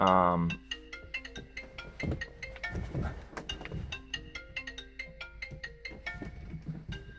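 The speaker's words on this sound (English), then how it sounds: "sorry about that, work phone." A work phone ringtone plays a repeating melodic electronic tune, fairly close and clear, with a brief voice at the very start before the tones take over.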